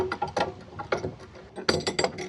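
A clamp is ratcheted tight on a kitchen drawer during a repair, giving bursts of close, crisp clicking in three or four uneven clusters with short pauses between them.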